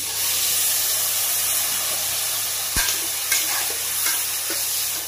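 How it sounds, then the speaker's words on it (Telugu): Boiled potatoes and peas drop into a sizzling curry and are stirred. A loud, steady frying hiss runs throughout, broken by a few brief scraping stirs. No one speaks. "ఉడకబెట్టుకున్న బంగాళదుంపలు, బఠానీలు ఇప్పుడు వేసేస్తున్నాము"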